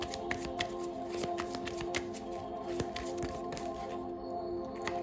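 Tarot deck shuffled by hand in steady, rapid riffles and snaps, close and clear throughout, with a faint steady hum underneath and no voices.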